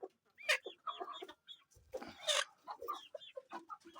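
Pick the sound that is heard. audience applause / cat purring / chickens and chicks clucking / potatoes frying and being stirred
chickens and chicks clucking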